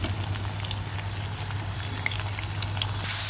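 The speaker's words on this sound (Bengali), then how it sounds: "এবার আমি এর মধ্যে গাজরগুলো দিয়ে দেবো।" Carrots hit hot oil among frying potatoes in a pan, giving a steady, close crackling sizzle with scattered pops. A low hum runs underneath throughout.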